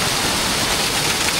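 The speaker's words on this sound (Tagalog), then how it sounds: "Lakas-lakas na ng tubig namin." Water gushes hard from a mountain source pipe in a steady, loud, broadband rush, unbroken and close, with no voices over it.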